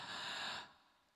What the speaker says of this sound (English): Can we just take a deep breath in?